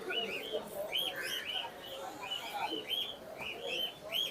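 Pigeons at the busy Mirpur-1 pigeon market in Dhaka call in repeated short, bright bursts over a constant crowd murmur and faint voices.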